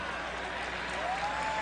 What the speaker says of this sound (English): who also gets a round of applause